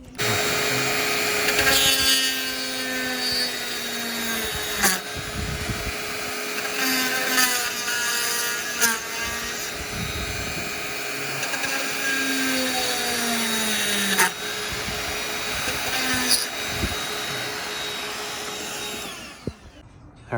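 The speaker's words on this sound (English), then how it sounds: "So that's why I prefer to mounting it and then drilling out the hole" A power drill bores holes in carbon fiber vented fenders on a twin turbo G35, close and loud, in several whirring bursts that rise and fall in pitch with brief pauses and clicks between them.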